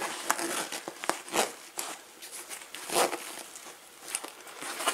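A zipper on a Royal Enfield motorcycle tank bag is pulled open and shut in several quick, raspy runs, close and fairly soft, with faint crinkling of the bag fabric between strokes.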